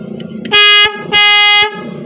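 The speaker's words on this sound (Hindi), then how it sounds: "ये एक हॉर्न हो गया" Two loud blasts from a vehicle power horn, each about half a second long, separated by a short gap and heard up close over faint background noise.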